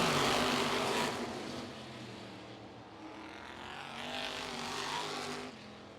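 Modified race cars roar around Mt. Lawn Speedway during a heat race, a loud, dense engine drone at first that eases, then swells again as the pack passes, with steady high whine over rumbling low end.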